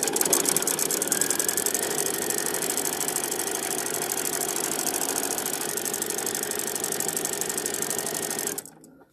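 A sewing machine stitches a quilt binding in a fast, steady mechanical whir with a rapid rhythmic needle chatter, running continuously up close before stopping abruptly at the end.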